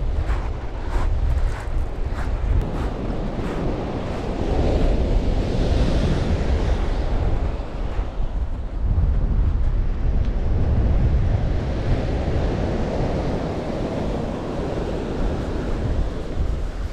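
Waves breaking on a beach at Bridport in the UK, with wind buffeting the microphone; a steady, loud roar of surf and gusts that swells and eases throughout, with no voices.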